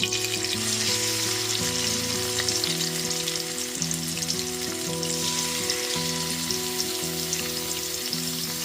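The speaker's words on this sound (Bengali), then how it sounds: "ওই একই তেলের মধ্যে এইবার দিয়ে দিচ্ছি লবণ আর হলুদ গুঁড়ো মাখানো চিংড়ি মাছগুলোকে" Prawns coated in salt and turmeric frying in hot oil, a steady close sizzle that runs without pause under background music.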